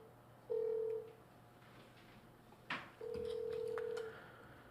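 A telephone call is placed from a Korean horse-racing broadcast: a short dialing blip, then two long steady ringback tones about two seconds apart, with a soft click between them, over quiet room noise.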